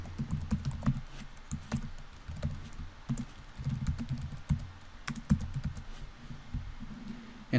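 An email address is keyed in on a computer keyboard with a steady run of close, soft, thumpy keystrokes, mostly even with occasional brief pauses, and no voices.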